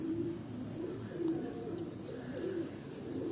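Pigeons kept on a rooftop coo softly in a low, continuous murmur, several birds overlapping at a moderate distance with steady background noise.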